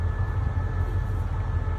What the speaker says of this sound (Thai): อยู่ที่สถานีรถไฟครับ